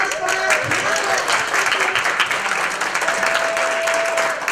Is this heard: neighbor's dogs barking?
no